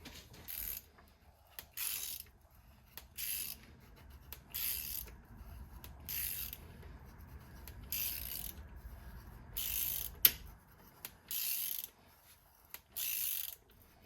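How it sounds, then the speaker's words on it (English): A hand tap cutting a new spark plug thread into an aluminum cylinder head on a Ford modular engine, heard as repeated short ratcheting scrapes in a steady stop-start rhythm, close and moderately loud with no talk. "So we're just gonna be tapping this like the good old days by hand."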